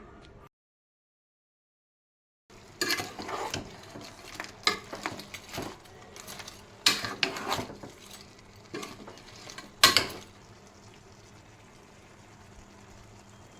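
A spoon stirs crab curry in a pan with chilli, turmeric and salt, giving scraping clatters and gentle sizzling in uneven bursts after a brief silent gap, close by with no talk.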